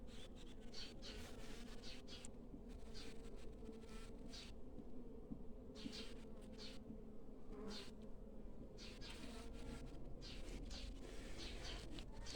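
Honeybees at a hive during a quiet queen changeover make a soft, steady buzz, overlaid by faint, irregular clicking and ticking bursts close by, with no voices.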